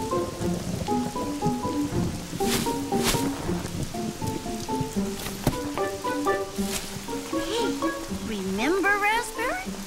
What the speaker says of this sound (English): Into this rain?